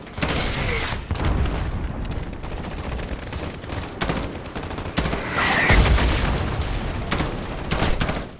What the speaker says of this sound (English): How many damn mortars they gonna send?